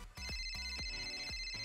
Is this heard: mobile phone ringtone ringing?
yes